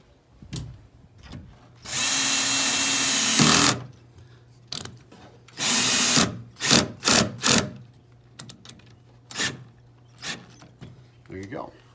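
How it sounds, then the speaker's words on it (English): A cordless drill driving screws to mount 4x6 mirrors, with close, loud bursts of whirring: two long runs, then a string of short stop-and-start pulses, with someone talking in between. "You might even turn your drill gun clear down so that it doesn't,"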